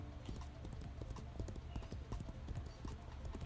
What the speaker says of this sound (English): getting back on my horse.